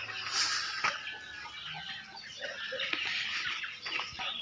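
A chicken clucks faintly amid outdoor ambience, its short bursts scattered across a few seconds, with no speech.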